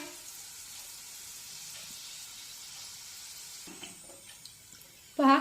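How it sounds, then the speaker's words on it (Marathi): Banana and jaggery puris deep-frying in hot oil give a soft, steady sizzle throughout, ending with a brief, louder clatter close by. "अशा छानपैकी उलटपुलट करत या पुऱ्या आपण तळून घेऊया"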